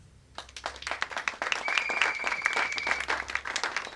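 A church congregation claps and applauds together, a dense patter of hand claps rising after a quiet start and holding steady for several seconds, with a faint sustained tone in the background.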